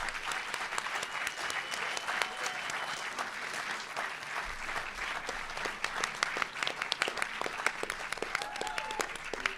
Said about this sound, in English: Please join me in a round of applause for our candidates tonight.